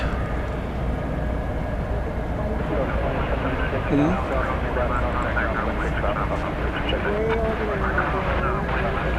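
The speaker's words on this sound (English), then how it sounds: "The flight to Buenos Aires is now on the move, coming our way." Jet airliner taxiing at night at DFW Airport, a steady low engine rumble and roar filling the scene throughout, with people talking over it.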